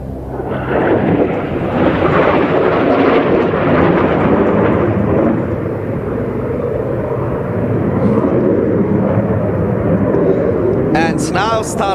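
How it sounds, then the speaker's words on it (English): Jet aircraft flying a solo display at the NATO Days and Czech Air Force Days air show, a loud continuous roaring rush that fills the whole stretch, with a commentator's voice heard through it. "Bir jet tayyaresi işte böyle uçurulur."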